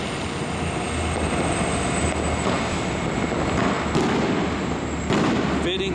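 Dense crackling fireworks over the steady low rumble of a diesel train passing close by, with a few sharper bursts toward the end.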